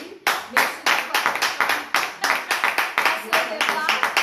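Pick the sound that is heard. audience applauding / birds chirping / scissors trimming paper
audience applauding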